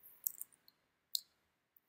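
Computer mouse clicking on a login button, a few sharp, faint clicks close by in a quiet room, one small cluster followed by a single clearer click.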